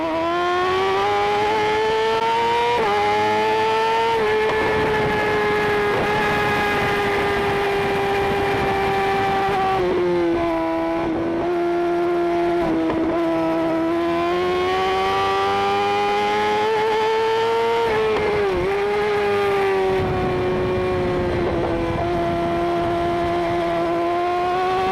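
Suzuki sportbike on stock gearing and chain racing through corners at Shannonville in an amateur sportbike race, its engine screaming loud and close, pitch rising with each pull and dipping on shifts and corner entries.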